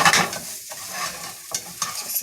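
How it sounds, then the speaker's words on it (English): Green beans stirred in a baking dish for a green bean casserole, with scraping and clinking of a utensil against the dish in short bursts, close and fairly quiet, no voices. "I do like to take them out and give them a nice stir"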